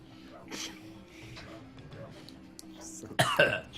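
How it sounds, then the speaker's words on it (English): A short, sharp cough near the end follows a stretch of faint murmuring and background noise. "Lift the shaft and cough."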